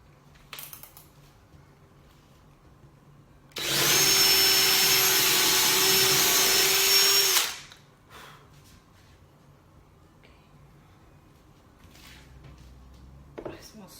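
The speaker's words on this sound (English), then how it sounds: "I'm gonna be using a drill and a screwdriver to insert a screw down the middle." A power drill drives a screw down the middle of a pine wooden tiered stand, giving one steady, loud motor whir of about four seconds, with faint handling clicks before and after.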